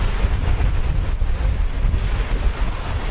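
Strong wind gusts over a lake during an overnight canoe trip, a loud roaring rush with buffeting against the microphone and wave wash, continuous and uneven across the whole stretch.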